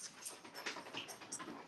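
A dog pants softly down in a house basement, quick rhythmic breaths close by but faint, lasting under two seconds.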